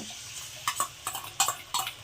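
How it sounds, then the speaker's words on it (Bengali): A utensil stirs and scrapes fried onions, ginger and garlic in a pan, giving several distinct metallic clinks and scrapes over a quiet background. "এবার এই সসগুলোকেও আমি এটার মধ্যে মিশিয়ে দেব"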